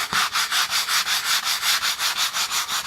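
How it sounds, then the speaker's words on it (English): Fine grit sandpaper rubbed back and forth over a finished painting, a steady rhythmic scratching of about five strokes per second, close and alone with no voices. "you're going to take your fine grit sandpaper"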